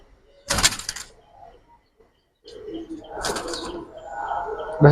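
Jalla pigeons, a Giribaz flying breed kept as a pair in a loft, give soft low coos between sharp bumps and rustles, with a louder stretch of mixed cooing and handling noise near the end.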